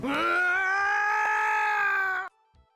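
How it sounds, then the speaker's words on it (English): A loud, sustained groaning scream from a creature in the EcoQuest adventure game, played when a conch is blown; one long harmonic cry that cuts off abruptly. "thank you for the werehog scream"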